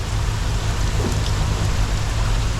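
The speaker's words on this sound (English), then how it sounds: "So we're in the middle of the wall of rain." Heavy rain pours down at sea in a dense, steady roar, loud and close, with no voices.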